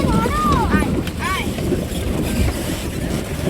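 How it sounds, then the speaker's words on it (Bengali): Boat ride out to the Sea Walk station off North Bay Island in the Andaman Islands: a steady low engine rumble and wind buffeting the microphone, with a few brief rising and falling whistle-like tones near the start and voices in the background. "এই বোটে করে সিওয়াকে যাব।"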